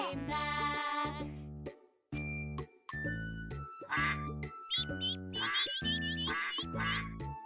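Repeated quacking voices in a bouncy rhythm with chiming tinkles, sounding like a sung or imitated duck call over music rather than a real duck.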